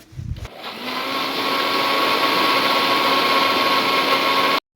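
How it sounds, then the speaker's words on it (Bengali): A mixer grinder grinds tender coconut flesh, likely with coconut water, for homemade ice cream: a loud, steady motor whir that starts after a brief knock and runs continuously close up, then cuts off abruptly. "মিক্সার গ্রাইন্ডে সেটাকে পিষে নেবো"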